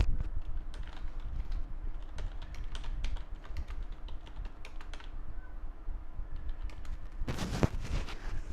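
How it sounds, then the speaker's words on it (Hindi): Fingers type data into an Excel spreadsheet on a computer keyboard, a steady stream of close, crisp key clicks with irregular rhythm, ending in a brief louder clatter near the end. "मान लीजिए मैंने यहाँ पे कुछ डाटा टाइप किया"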